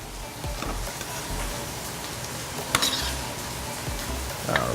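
Food browning in brown butter in a hot pan, a steady faint sizzle with soft crackles and a few sharper pops, heard alone with no talking.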